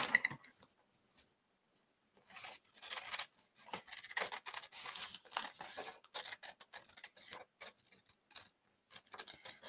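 Scissors snip through paper or card while cutting out a traced shape for a Christmas sleigh decoration, giving a run of close, crisp snipping and rustling sounds with brief pauses between cuts.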